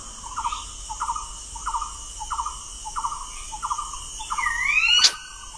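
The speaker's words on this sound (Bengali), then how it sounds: "দেখো। ময়না একদম।" A myna bird in a forest gives a series of about eight short, evenly spaced calls, ending in a rising whistle and a sharp burst, heard clearly over a steady hum of insects.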